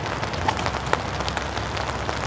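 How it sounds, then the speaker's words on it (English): Steady rain falls on a wooded disc golf course during a professional tournament round, a continuous soft patter with a few louder drop hits and no talk. "Second little band of rain coming through at this moment, which also usually brings a lot of rain."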